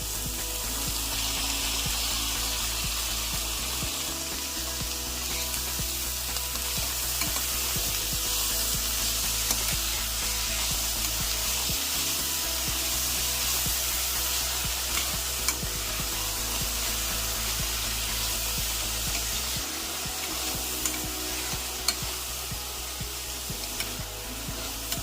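Spinach frying and sizzling in a pan while being stirred, with a steady hiss and repeated scraping strokes throughout, close and fairly loud, no voices.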